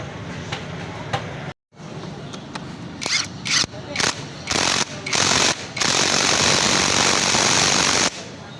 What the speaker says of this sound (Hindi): अब मैं इसका नट लगाऊंगा, ये इस तरीके से क्लियर होना चाहिए पूरा।